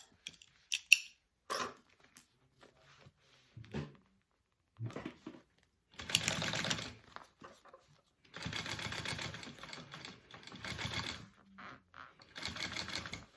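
A sewing machine top stitches a pressed seam allowance in short separate bursts, quiet and close, with gaps of near silence and small handling clicks between runs.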